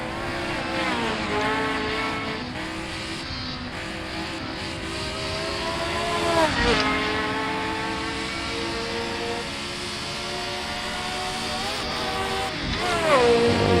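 A Lotus 72D race car in a racing game laps the Nürburgring full course, its engine a steady high-pitched wail rising and falling through gear changes, with a brief dip and climb midway and no talking.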